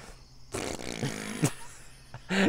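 A voice imitates a wet fart with a sputtering, buzzing blurt that rises and breaks off, followed by another brief burst, close and fairly quiet.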